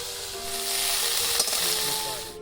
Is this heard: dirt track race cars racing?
no